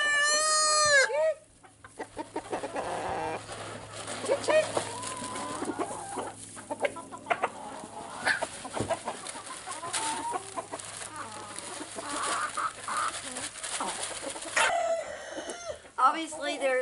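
Backyard egg-laying hens cluck and a rooster crows, steady farmyard chatter at moderate distance under a person talking quietly.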